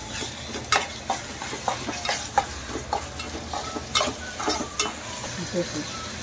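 A spoon scrapes and knocks in a pan of onion and tomato frying for a chicken dish, irregular stirring strokes over a soft steady sizzle, close up.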